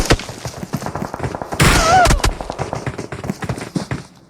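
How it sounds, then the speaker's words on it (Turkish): Loud bursts of grenade explosions and rapid gunfire crackle in quick succession in PUBG Mobile, one big blast standing out, with game effects and a voice shouting underneath. "Kafasında patladı bombalar ya."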